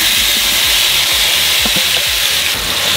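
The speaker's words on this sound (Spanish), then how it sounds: "Vamos a prender el disco y le vamos a poner un chorro de aceite. Vamos a poner las papas." Potatoes frying in oil on a hot disco griddle give off a loud, steady sizzle with a hissing wash, broken by low rhythmic thumps of stirring close by.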